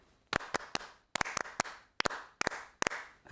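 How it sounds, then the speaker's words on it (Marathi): A group claps out the 'Asha' clap in sharp, close, unison bursts: quick sets of two or three claps separated by short gaps, repeated in a steady rhythm, with no talking. "ही त्यांची पद्धत आहे, ही त्यांची टाळी आहे."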